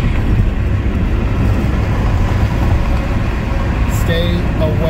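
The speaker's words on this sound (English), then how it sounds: "I want you to hear this truck." A semi truck car hauler passes on a windy highway, its steady engine roar and tyre rumble mixed with broad wind buffeting, loud and close throughout, with a brief higher whine near the end.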